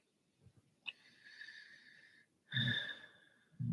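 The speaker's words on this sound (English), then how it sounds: "now my dog is snoring like crazy again" Dog snoring close by with a wheezy, whistling tone on each breath, then louder snorting breaths with low rumbles in a quiet room.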